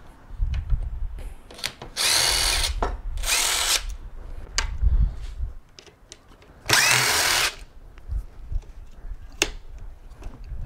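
A power drill driving out screws while a Kirby G7D vacuum motor is taken apart, in three loud whirring bursts of a second or so each, separated by quieter rattling and handling of parts.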